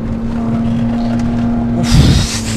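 Alfa Romeo 147 GTA engine droning steadily from inside the car while driving, a constant hum with a brief louder surge of noise near the end.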